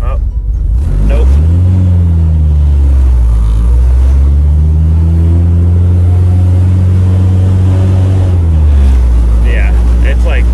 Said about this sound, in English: it's revving high, but I think it's because my throttle's tight